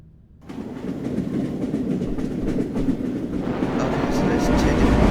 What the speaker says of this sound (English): for train enthusiasts, we are going to be on a train.